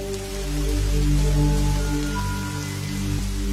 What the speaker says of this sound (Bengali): ঝমঝম করে শুরু হলো মুষলধারে বৃষ্টি